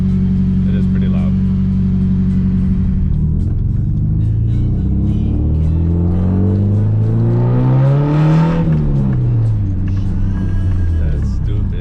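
A Nissan 240SX with a Nismo test pipe accelerates hard, its loud raspy exhaust rising through the revs, dropping on a shift and climbing again, heard from inside the car.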